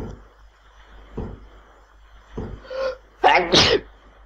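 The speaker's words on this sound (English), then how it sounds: "I never know someone who sneezes 4 times in a row." A character in the horror video game Echo Night sneezes several times in a row, a quick series of loud, close sneezes with short breaths between them.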